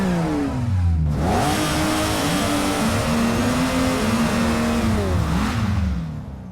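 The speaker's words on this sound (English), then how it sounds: "The famous Happy Birthday song played with real engine sounds." Porsche engine notes revved up and down in pitch to play the Happy Birthday melody, loud and continuous, with harmonic sweeps rising and falling in a stepped tune, no talking.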